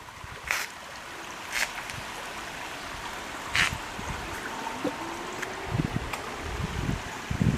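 A park brook runs past stepping stones with a steady, soft wash of flowing water, broken by a few sharp splashes and knocks, and no voices.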